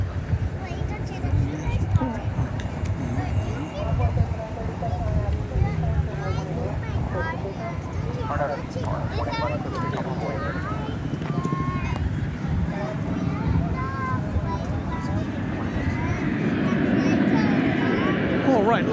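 An airplane of Flight 4166 from Corpus Christi moves at DFW Airport, a broad jet rumble swelling toward the end beneath continuous talk.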